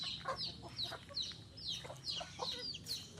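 Chickens cluck and chatter repeatedly in a farm coop shaded by mango trees, their short calls rising over a steady low background hum at moderate distance.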